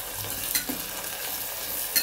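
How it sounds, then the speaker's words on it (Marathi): Onion and tomato sauté in oil in a pan, giving a steady, moderate sizzle with a couple of brief stirring scrapes. "आणि हे छान मस्त परतून द्यायचे बघा तेलावर कांदा टमाटा"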